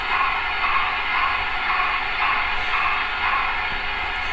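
An air compressor sound comes from a Tsunami2 TSU-21PNEM8 sound decoder fitted in a Broadway Limited FEF-3 model locomotive: a steady, loud, hissing mechanical drone with a faint rhythmic pulse, continuous throughout with no talk.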